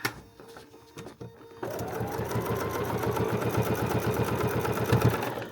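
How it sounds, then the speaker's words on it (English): A sewing machine runs a quick seam down the front of a fabric basket, a steady rapid needle chatter starting after a short pause of handling noise and continuing loud and close to the end. "I'm just going to sew real quickly right down the front there."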